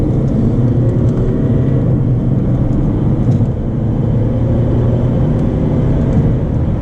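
A 2016 Mercedes A200 with a dual-clutch gearbox accelerates steadily, its engine a loud, continuous low drone that builds without break through the revs, alone with no talking.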